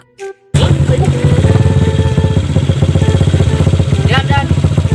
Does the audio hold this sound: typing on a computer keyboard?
no